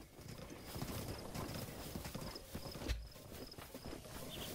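Game horse in The Legend of Zelda: Breath of the Wild, with steady clip-clopping hooves and a neigh, busy and continuous alongside the game's background ambience.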